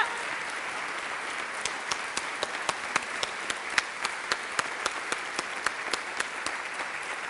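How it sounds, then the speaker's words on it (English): A church congregation claps together on a Sunday, steady continuous applause with crisp individual claps standing out near the front, sustained evenly throughout. "So let's give Haley a round of applause."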